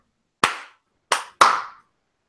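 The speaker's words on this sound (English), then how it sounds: "And we're all gonna clap." Three sharp group claps in unison, each crisp and close, the first alone and the last two in a quicker pair, with silence between them.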